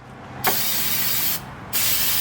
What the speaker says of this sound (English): spray some more fluid film. On there, spray it on there.